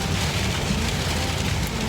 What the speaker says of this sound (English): It's definitely hailing. Definitely.